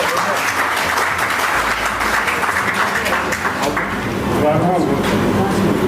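Loud, sustained applause from an audience at a Gujarati ghazal collection book launch and poets' gathering, a dense wash of clapping that holds steady for several seconds.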